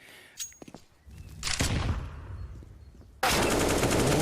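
Gunfire in a Counter-Strike match between Team Vitality and 9Z: a few sharp shots near the start, a dense rattling burst in the middle, then a loud, sustained roar of fire and effects at the end, with no talk.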